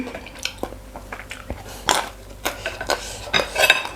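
Dishes and bowls are scrubbed and rinsed, with scattered clinks of ceramic and utensils, scraping and splashy clatter close by in an irregular rhythm.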